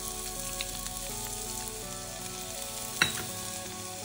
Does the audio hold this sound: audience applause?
no